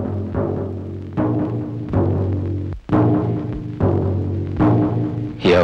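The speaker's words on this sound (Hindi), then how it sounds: "ये नकारों की आवाज है" Nagara drums beaten in a village, a steady series of about seven loud, booming strokes at a slow, even pace, each ringing out before the next.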